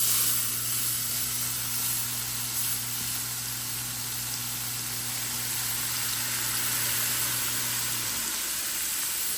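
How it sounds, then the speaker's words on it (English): Hot avocado oil poured over chili peppers and seasonings gives a broad, steady sizzling hiss that carries on evenly for several seconds, close and fairly loud, with a low steady hum underneath and no talk. "we're gonna take this avocado oil and we're gonna dump it in here just like so"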